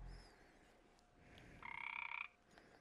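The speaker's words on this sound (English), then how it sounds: "That's a frog." A Minecraft frog gives one short, buzzy croak in a quiet setting, faint and with no talking around it.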